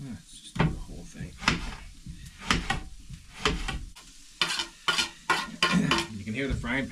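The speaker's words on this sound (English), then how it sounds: "You can hear the frying pan." Food sizzles steadily in a hot pan while a utensil stirs and scrapes in bursts, with a person talking nearby over the cooking.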